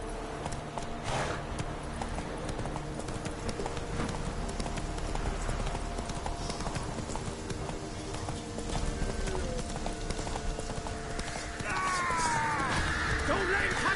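A horse gallops in The Witcher 3: Wild Hunt on PS4, its hoofbeats a steady, rapid clip-clop throughout, under game ambience, with a voice speaking briefly.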